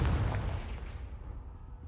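A single Confringo spell blast goes off in the video game Hogwarts Legacy: one heavy, booming burst that rumbles and fades away over about two seconds, heard alone with no voices.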